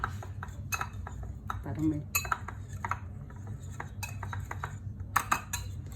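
Utensils clink and scrape against a bowl as ingredients for a low-carb pizza are mixed, in irregular close taps and scrapes, with a little faint voice in the background.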